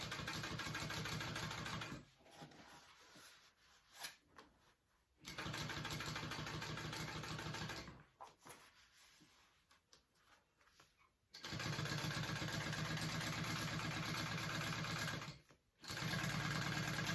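Sewing machine top stitching a handbag, running in loud rapid bursts of mechanical chatter separated by quieter pauses, three long runs with short stops between them.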